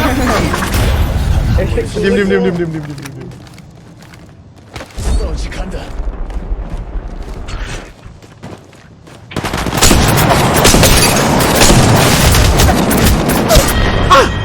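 Grenade blasts and gunfire in the Apex Mobile shooter game, heavy booms and crackling shots in loud bursts broken by a quieter stretch, with a player talking over parts of it.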